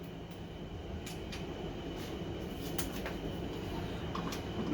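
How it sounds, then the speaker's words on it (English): Small radiant heater running in a workshop, a steady broadband whooshing hum that stays even and constant throughout, with a few faint clicks on top. "if you hear that noise in the background, it's my little radiant heater over here."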